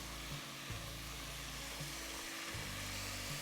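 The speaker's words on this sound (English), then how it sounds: "Give it a nice fry" About two garlic cloves fry in a pot with a soft, steady sizzle, low and fairly quiet, joined by a recurring low rumble from stirring or the stove.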